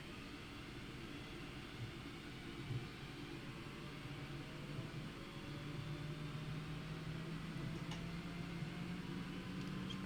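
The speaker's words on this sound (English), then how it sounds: "Off we go, with the characteristic sound of a Class 323." Class 323 electric train pulling away, heard from the cab as a quiet, steady hum and rumble with a low motor whine slowly rising in pitch as it gathers speed.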